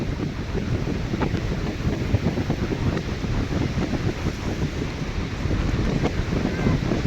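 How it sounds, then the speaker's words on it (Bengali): Strong wind sweeps across Digha beach, blowing dry sand in a constant roaring rush of gusts and buffeting against the microphone, with no voices over it. "প্রচুর হাওয়া, হাওয়াতে বালি সব উড়ে চলে আছে।"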